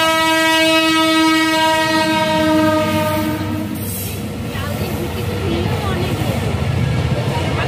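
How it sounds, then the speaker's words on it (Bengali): A train pulls into a crowded station on Holi, blowing a loud, sustained horn for several seconds before giving way to a rolling rumble and clatter of wagons, close by, with voices around. "এই যে ট্রেন আসছে এখন, এখন ট্রেন আসছে, ট্রেন দেখ ট্রেন দেখ"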